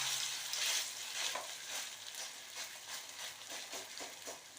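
Thavala adai batter sizzles and crackles in hot oil on a pan, a soft, continuous frying hiss with small bursts of spattering, heard alone without talk.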